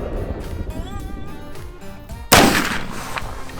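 A single loud muzzleloader rifle shot cracks sharply at close range during a hunt, followed by a booming, rolling tail, after quieter outdoor background noise.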